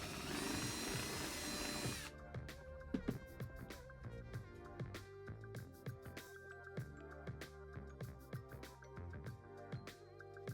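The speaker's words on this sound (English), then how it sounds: "drill a 1/2-inch hole to accommodate the wires coming off the aviation socket" A power drill bores a 1/2-inch hole in a coupler: a steady high whine for the first two seconds, then uneven grinding and clattering bursts as the bit works through, close and fairly loud with no talk.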